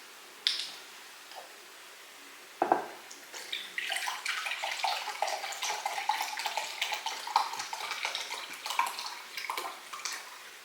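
Apple cider vinegar, two cups, poured into a bowl or pot for mango chutney: a couple of short knocks, then a steady splashing liquid stream running several seconds at close range, with no talk.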